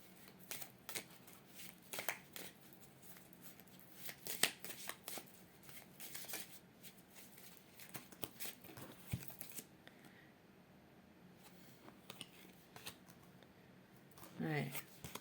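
Oracle cards shuffled for a love tarot reading: soft, repeated papery riffles and flicks, fairly close and quiet, running under a woman's speech in French.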